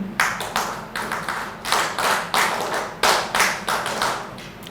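Audience applause for the Bharat Scouts and Guides at a youth disaster risk management event: a few hands clapping in uneven bursts, fairly near, swelling and fading several times with no talk.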